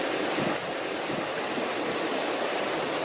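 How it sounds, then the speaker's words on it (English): A swollen river in spate during a wet February at a building site in Holmfirth, West Yorkshire, rushing in a steady, loud, broadband roar that continues unbroken throughout, with no voices. "February Filldyke lives up to its name, and the river is in spate."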